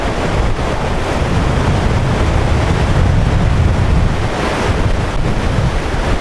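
Strong wind at Millstream Gardens, outdoors, roars steadily and loudly against the microphone, a constant, full rumbling hiss that never lets up and covers everything else.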